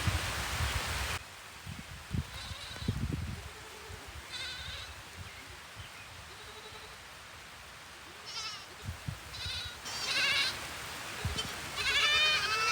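High, wavering bleats from baby goats in the rain, several short calls scattered over a soft rustling background, mostly moderate in distance.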